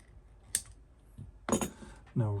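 A couple of small sharp clicks and snips from cutters trimming wire while rewiring an EICO 950A, close and quiet, with a brief voice at the end.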